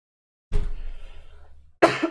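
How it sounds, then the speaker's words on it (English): Two bursts of coughing from a person, the first a rough, heavy cough lasting over a second, then a sharper second burst after a short pause, close to the microphone with no talk. "Sorry for the coughing."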